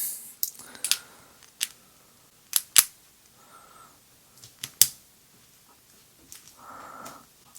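Lock being picked by hand, with scattered sharp clicks and small metallic ticks from the pins, irregular and close, plus a couple of brief scraping rasps in between, no voice.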